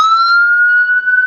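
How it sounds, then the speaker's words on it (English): An ambulance siren sounds close and loud as the vehicle passes, a steady high wailing tone holding for just over a second with no talk over it. "it's the ambo going past"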